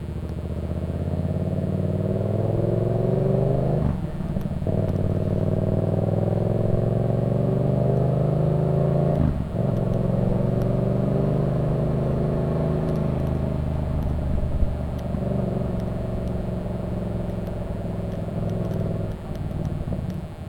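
Road traffic at the Americade 2023 motorcycle event: a continuous low engine rumble from passing vehicles, with a few brief surges and gear changes, fairly loud and steady throughout.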